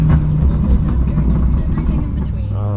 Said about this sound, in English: you hear the Hellcat in the background